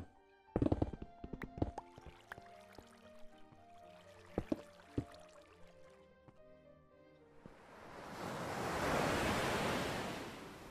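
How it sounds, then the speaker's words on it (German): Sea waves rush as ambient sound in a video game: after a stretch of scattered clicks and tones, a broad wash of surf swells up loud and steady, then slowly eases off. "Meeresrauschen."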